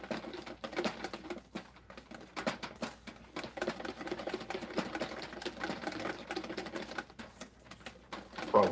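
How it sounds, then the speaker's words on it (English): A whisk clatters rapidly against a bowl while egg yolk sauce for eggs Benedict cooks, a fast, steady patter of light metallic taps at moderate volume with no talk. "Just keep whisking it."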